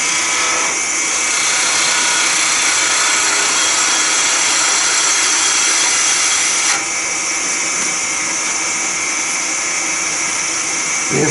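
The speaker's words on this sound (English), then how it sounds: "And I'll do it one more time with the rod scraper." A George Hatfield rod scraper shaves a rod, making a loud, continuous rasping whir that runs unbroken from start to finish.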